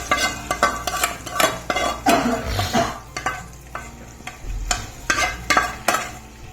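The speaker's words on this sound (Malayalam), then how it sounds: "നമ്മൾ കടുവ് വറുത്തത് നമ്മളുടെ മാങ്ങ കുളമ്പിലേക്ക് ഒഴിക്കുകയാണ്" Fried mustard seed tempering being added to a mango curry: a close, bubbling sizzle with clinks and scrapes of a metal utensil against a pan, in short bursts.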